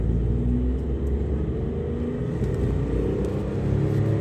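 A Tata Nexon accelerating in second gear, its engine giving a steady, slowly building rumble and drone from inside the cabin, with no talking.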